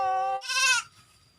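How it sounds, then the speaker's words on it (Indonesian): A sheep bleats twice outdoors, a short steady call and then a higher, quavering bleat, loud and close with no voices. "Ini aya domba abah di dia."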